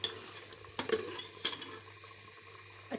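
Masala for goat trotter paya being stirred and fried in a pot at home, with scattered metal spoon scrapes and clinks against the pot over a faint low hum, no talking.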